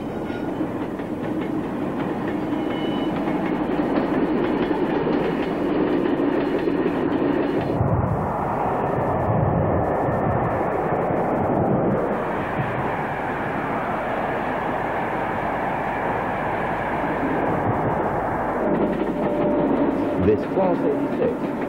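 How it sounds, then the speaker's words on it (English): A British Rail Class 25 diesel locomotive rumbles past with a loud, sustained engine roar and wheel noise over the full stretch, shifting in tone midway as it passes. "these Class 25s still work for British Railways."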